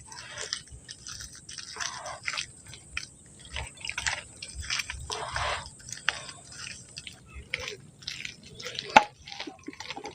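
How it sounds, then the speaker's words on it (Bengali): Palm fruit seeds are mashed by hand with a little water, giving close, soft, irregular squelching and wet squishing sounds, with quiet drips throughout. "অল্প একটু জল দিয়ে এইভাবে করে একটু চটকে চটকে নিচ্ছি"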